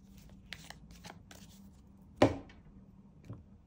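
Oracle cards handled and shuffled for a reading, with soft, close papery riffles and taps and one sharper snap midway, in a quiet room without talking.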